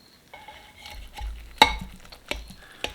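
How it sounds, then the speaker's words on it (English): A spatula scrapes around the edge of lasagna cooked in a crock pot slow cooker, soft close scrapes with a few sharper knocks against the crock. "I'm just gonna run my flipper here around the outside"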